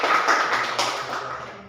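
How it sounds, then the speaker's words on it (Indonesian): A classroom of students applauds together, a dense, steady burst of clapping close by that fades slightly toward the end, with no talking over it. "Kasih tepuk tangan dulu"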